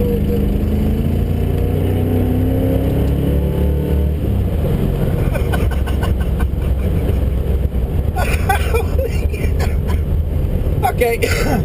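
A 1981 Camaro Z28 engine pulls hard from inside the cabin, its drone rising steadily in pitch, then roaring louder and rougher under full throttle with wind and road noise while a driver talks over it.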